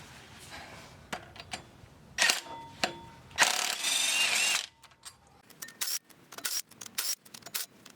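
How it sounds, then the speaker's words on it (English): An electric impact gun rattles off the flywheel bolts of an Acura RSX Type S during a clutch replacement, firing in short bursts and one longer hammering run amid clicks and metal clinks from the work, close by. "I'm gonna be using my electric impact gun in order to take it off"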